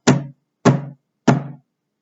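Three loud, evenly spaced knocks on a heavy door, a storytelling sound effect for a giant's spear striking a fort's door, each thud short and close with nothing else around it.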